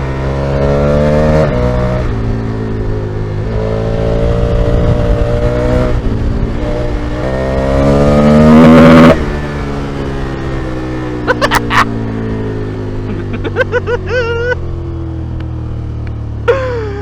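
A motorcycle on Dunlop Trailmax Raid dual-sport tyres rides along, its engine droning loud and steady with rising and falling revs and gear changes, plus wind rush and occasional knocks from the ride.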